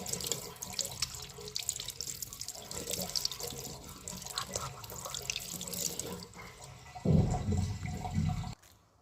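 Water runs from a tap into a sink while someone washes their hands, a steady splashing stream with a heavier gush near the end before it cuts off.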